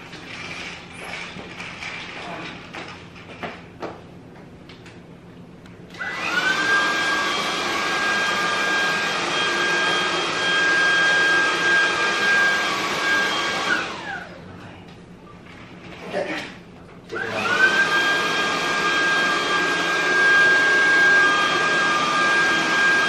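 A soft gold vacuum cleaner with strong suction runs loud and steady with a high whine, stops briefly, then starts again; faint speech is heard at the start.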